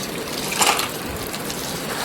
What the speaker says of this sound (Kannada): ಈಗ ನಾನೀಗ ನೀರು ಬಿಟ್ಟು ಅದಕ್ಕೆ ಸ್ವಲ್ಪ ನೀರು ಬಿಟ್ಟಿದ್ದೀನಿ